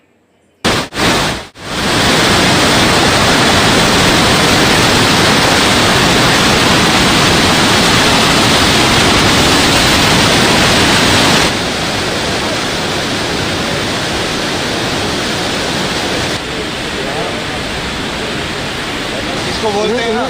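Indus river water rushes hard through a barrage gate in high flood, a loud, dense, continuous roar that holds steady for many seconds after a few sharp knocks at the start.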